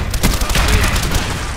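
A frag grenade blast in a Call of Duty Black Ops Search and Destroy match, a loud booming explosion followed by a rumbling, crackling burst of gunfire-like reports, close and dense throughout.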